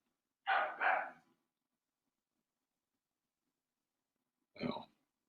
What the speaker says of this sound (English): Ringo is barking.